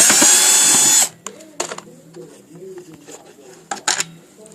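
A power drill whirs steadily for about a second while removing the hood of a Hoover convertible upright vacuum, then stops, followed by quieter handling clatter and short mechanical clicks.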